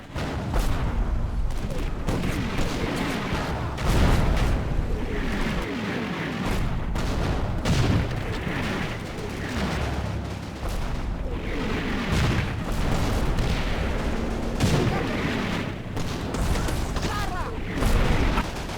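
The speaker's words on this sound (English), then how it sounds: "A deadly duel between my hull-down assault guns and the American tanks ensues." Tank and assault gun fire in the Combat Mission Normandy war game: repeated booming cannon shots and blasts at irregular intervals over continuous battle rumble, with a voice talking over parts of it.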